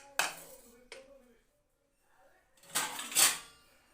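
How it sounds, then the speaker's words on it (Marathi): Steel plates and pans clattering in a kitchen while sabudana is cooked: a sharp clank, a lighter knock, a pause, then a louder burst of metallic scraping and ringing as a plate is pulled from the stack. "ताटलीच काढा."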